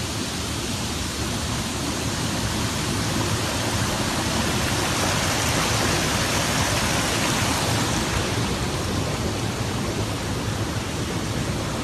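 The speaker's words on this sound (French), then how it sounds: "je tourne un peu pour qu'on se rende bien compte de l'eau qui continue à s'écouler" Flood water pours steadily out of a gaping hole after heavy rain in Haute-Loire, a loud, dense, unbroken rushing roar like a torrent or downpour filling the whole stretch with no voices.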